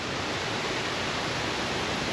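A very small waterfall in a park in Kuala Lumpur gives off a steady, dense rush of falling water, close and loud, with no breaks across the short stretch.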